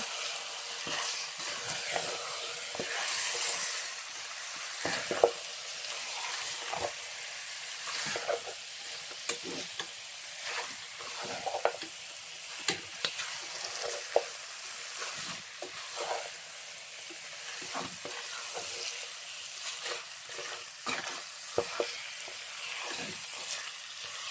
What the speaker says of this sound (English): So now I'm going to add my meat that I boiled. I'm going to add it. I'm going to mix it together.